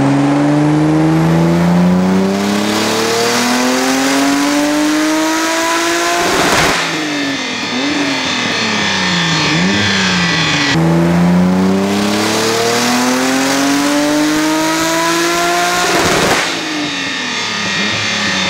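An Audi S4 B5 converted to a single turbo revs hard on a dyno: two long, loud, rising pulls of engine roar, each ending in a sharp drop and wavering engine note, with no talk.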